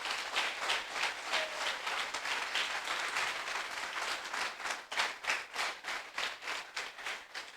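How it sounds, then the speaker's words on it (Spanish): A church congregation applauds in a continuous wash of clapping that swells into sharper, rhythmic claps toward the end, fairly distant and even. "Si vas a aplaudir, aplauda."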